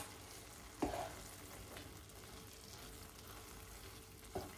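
Seafood risotto being stirred in a pan after butter and cheese go in with the heat off, a faint soft bubbling hiss broken by two light knocks of the spoon against the pan.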